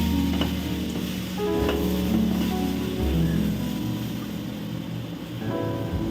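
Tomatoes sautéing in a pan produce a loud, steady sizzle with rhythmic stirring scrapes and occasional clinks of a spoon, continuous and close, with no talking.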